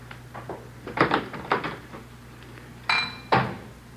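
Dishes clattering as a radio drama sound effect: a handful of separate clinks and knocks of crockery and cutlery, then two sharper bangs near the end, fairly faint and without talk.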